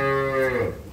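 A Jersey dairy cow at a farm moos once, a close, loud, drawn-out bellow that slides downward in pitch and fades at the end, with no talk over it.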